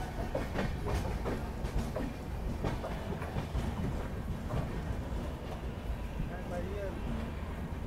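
The Vaishali Express sleeper train rolls into Gonda Junction railway station with a steady, fairly quiet rumble. Faint clickety-clack from the rails runs throughout without a break.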